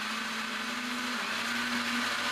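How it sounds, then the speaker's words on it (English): A blender whirs steadily at close range while blending an orange juice immune-boosting drink, a continuous loud motor hum with no pauses. "let's turn on that blender"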